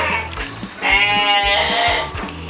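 Saanen dairy goat bleating close by, one long wavering bleat over the middle of the clip, with soft footstep-like knocks around it.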